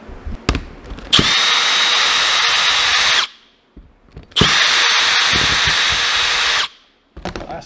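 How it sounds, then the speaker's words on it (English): A power drill backs screws out around a car's dash vent in two sustained, close whirring runs of about two seconds each, separated by a short pause, with light handling clicks between and no talking. "So I'm going to go all the way around this vent, pull all those screws out,"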